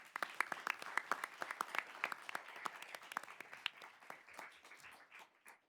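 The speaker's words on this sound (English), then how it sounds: "Please, a round of applause." An audience at a high school debate final claps in a lively burst of many overlapping hand claps, fairly distant in a hall, slowly thinning toward the end.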